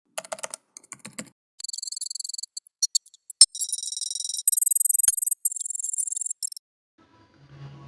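Bursts of computer keyboard typing during a CyberPanel install on a VPS: quick, close clicking keystrokes in short runs and longer dense streaks, then a pause, with no one talking.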